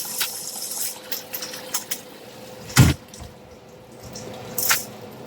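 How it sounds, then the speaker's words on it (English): Cooked lasagna noodles drain in a kitchen sink with scattered splashes, drips and a sharp rush of poured water, plus a later splash, close and moderately loud, with no talking. "now we're ready to drain the noodles."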